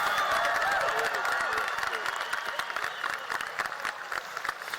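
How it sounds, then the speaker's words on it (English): An audience applauds and cheers at the Halls High School Class of 2025 graduation ceremony, dense clapping from a large crowd that is loud at first and then gradually thins and fades. "about a round of applause for the Halls High School Band?"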